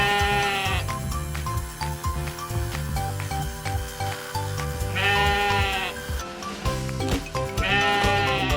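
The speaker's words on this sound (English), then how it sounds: "Sheep." Sheep bleat in a few loud, wavering calls spaced several seconds apart, each a quavering cry standing out over a bed of background music.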